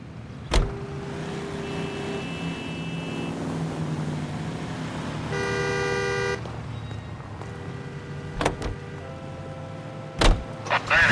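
A car is driven in the video game L.A. Noire, with a continuous engine and road hum throughout. Several sharp horn-like toots and brief tonal game effects sound over it, and there is no talk.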